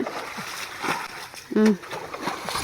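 Murrel fish thrash in a muddy pit as it is bailed out for fishing, throwing up brief, close splashes and slaps of water, with voices talking over the noise.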